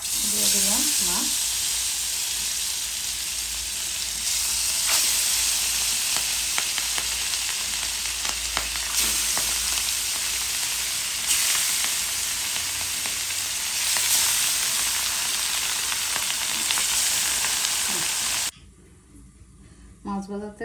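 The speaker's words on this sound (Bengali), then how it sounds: "দিয়ে দিলাম তেল মাছ ভাজার জন্য।" Rohu fish pieces, rubbed with turmeric, chili and salt, sizzle steadily in hot oil for a Bengali curry, a loud continuous frying hiss with occasional utensil clicks, quieting near the end.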